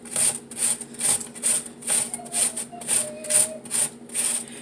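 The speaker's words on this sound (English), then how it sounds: "you just take it and turn it a different way until you just can't grate it anymore" A medium onion rubbed back and forth across a kitchen grater, a steady rhythmic scraping of about ten close, moderately loud strokes with no talking.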